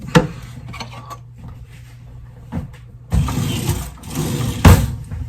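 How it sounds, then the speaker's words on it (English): A spoon stirs Navy red SOS in a pot, giving scattered clinks and scrapes at first, then a louder stretch of busy scraping and knocking in the second half, all close by with no talk. "Give it a good stirring up"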